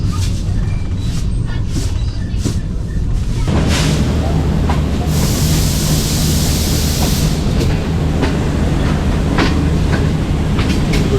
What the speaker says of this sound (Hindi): हाफिज़ाबाद रेलवे स्टेशन पे अप्रोच किया है हमारी train 36 down sir Syed express में